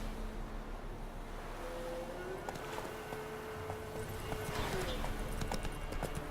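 Roach the horse trots along in The Witcher 3, hooves clip-clopping in a steady rhythm over ambient wind and surf, with a voice speaking partway through.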